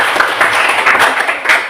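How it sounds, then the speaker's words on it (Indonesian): A classroom of students applauds a group presentation, a dense, steady wash of clapping hands filling the room evenly from start to finish without voices. "Tepuk tangan buat kelompok 3."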